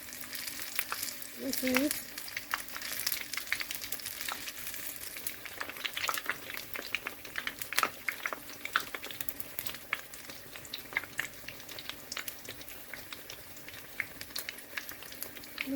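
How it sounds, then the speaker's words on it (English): Akara bean fritters fry in hot oil with a continuous crackling sizzle full of small pops, close and fairly quiet, while someone briefly speaks over it. "I've dropped the akara inside the oil."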